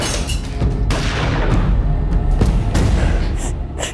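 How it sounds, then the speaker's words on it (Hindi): Gunshot effects in a dramatized crime scene at a house door, several sharp booming cracks spaced irregularly, loud and close, with echoing thuds between them. "गोली चलने की आवाज आई।"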